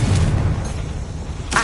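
Confringo fire blast spell in Hogwarts Legacy, a deep booming impact with a rumbling tail, then a second sharp burst near the end.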